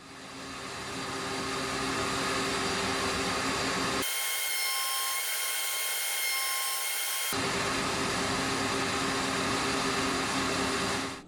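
A router cutter machining the ends of wooden door frame rails for raised panel wardrobe doors whines steadily and loudly, close up, running continuously throughout with no talk.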